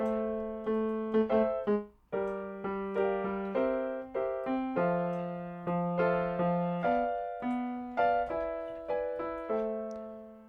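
Piano chords for a song played in a syncopated, bouncy rhythm with bass notes underneath, short stabs and held chords alternating over several bars, no voices.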